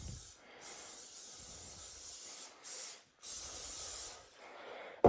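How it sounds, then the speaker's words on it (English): Cooking oil spray hissing in several bursts onto a cast iron Dutch oven outdoors on a creek bank, close and steady, with short pauses between sprays. "As you can see, we sprayed the inside and the outside of our pot."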